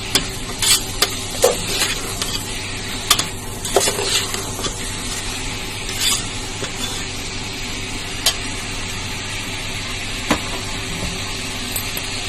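Spicy black chickpeas are sautéed in a pan, a steady close sizzle with frequent sharp spatula taps and scrapes as they are stirred, fairly loud and without talking.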